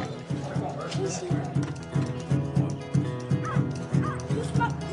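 Dog named Brutus barking in a rhythmic series of close bow-wow barks, roughly every half second, with people talking over and between them.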